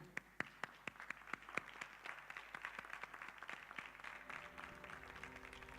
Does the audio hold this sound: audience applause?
yes